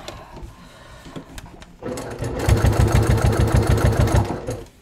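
A sewing machine stitches leather for a crossbody bucket bag, starting with faint clicks, then running in a fast, rhythmic, thumping burst, close and loud.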